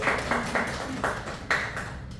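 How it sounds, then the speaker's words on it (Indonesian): A small group claps hands to applaud classmates at a microteaching session: a handful of sharp, separate claps at an uneven pace over about two seconds, near and moderately loud, with no talking. "Tepuk tangan buat kelompok 1"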